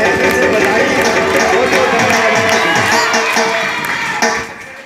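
Devotees at a Balaji temple gathering clapping loudly, a dense roaring wash of applause and crowd noise that fades slightly near the end.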